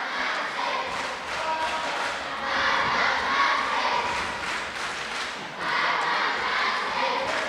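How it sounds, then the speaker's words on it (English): An Irish wrestling crowd in Balbriggan roars and cheers without pause, swelling in waves with shouts and occasional thumps from the ring, loud and filling the hall. "listen to this crowd here in Balbriggan"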